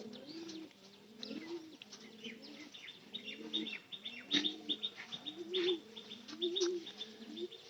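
Pigeons in a loft coo in repeated low, rolling phrases, several birds overlapping at close range, with occasional higher chirps and brief wing flutters in the background.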